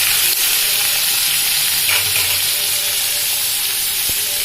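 Pasta with chopped tomato being stirred in a frying pan, giving a steady close sizzle and hiss throughout, with a faint clink of the utensil near the end.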